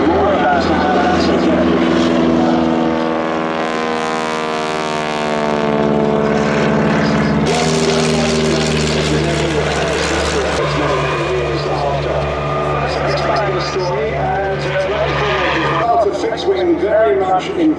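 An Auster AOP-9 propeller aircraft drones overhead, its engine note sliding in pitch as it passes, with a commentator talking over the steady, moderately loud hum.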